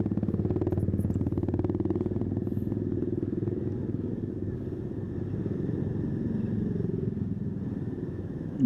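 A motorcycle rides a road in Indonesia, engine droning steadily and loudly throughout with rumbling road noise and faint clatter, without any speech on top.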